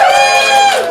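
Audience whooping and cheering at a ComedySportz improv comedy show in Portland: a brief, loud burst of voices with a rising cheer sustained across the whole second.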